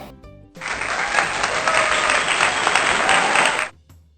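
Applause bursts out at a youth basketball game, a dense, loud wash of clapping from the crowd that holds steady for about three seconds before cutting off abruptly.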